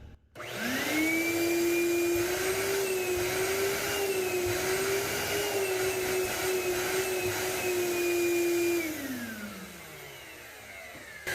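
A Ridgid wet/dry shop vacuum with a 3 1/4 hp motor switches on, holds a loud, steady whining roar for about eight seconds, then spins down, alone and close.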